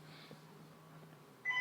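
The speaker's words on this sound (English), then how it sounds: "Oh, that's my house phone" A house phone rings indoors, a brief electronic tone near the end of a quiet stretch with a low steady hum underneath.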